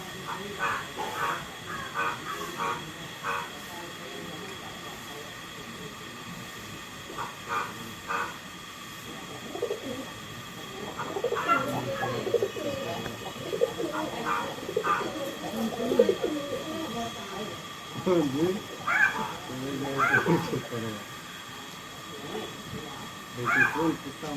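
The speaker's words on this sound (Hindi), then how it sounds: "सुंदर सुंदर देखिए कबूतर सब" Pigeons coo repeatedly nearby in soft, throaty phrases, with a steady hum in the background and occasional other birds.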